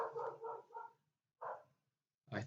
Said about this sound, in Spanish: quiero ocuparme de que este perro deje de ladrar